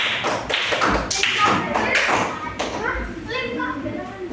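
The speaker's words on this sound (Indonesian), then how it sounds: "Tepuk tangan buat kelompok 3." Children in a primary-school classroom clap for a group during a civics lesson, in short bursts of sharp, close taps and thumps mixed with a teacher's voice and children's chatter.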